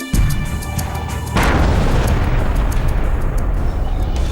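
A powerful blast destroying a militant hideout during a five-day encounter in the Nowgam sector of Kupwara: a sudden loud boom that gives way to a sustained rumbling roar.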